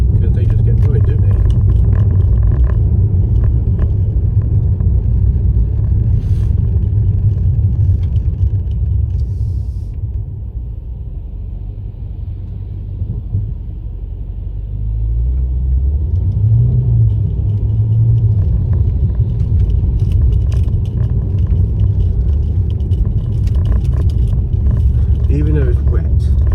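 Mercedes E63 AMG driven in Sport Plus mode on a wet road on semi-slick tyres, a steady deep engine rumble with a brief lull mid-way, loud and continuous throughout.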